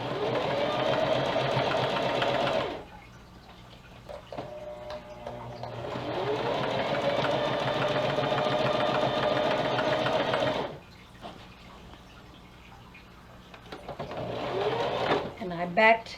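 A sewing machine runs a zigzag stitch with white thread in two long, steady, rattling bursts separated by quieter pauses, with a short final burst. Someone talks during the pauses.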